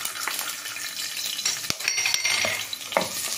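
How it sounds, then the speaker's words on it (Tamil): Chopped onions with cloves and cardamom fry in hot oil, giving a steady close sizzle broken by several sharp clinks of a utensil against the pan. "வெங்காயம் கட் பண்ணி போடுறேன்."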